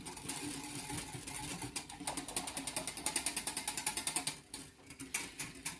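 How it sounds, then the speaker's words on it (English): Yeast and sugar whisked briskly in a bowl for oven-baked doughnuts, a rapid rhythmic clatter of wire against the bowl, close and fairly quiet, settling into regular strokes before a short pause. "I'm going to give this a whisk."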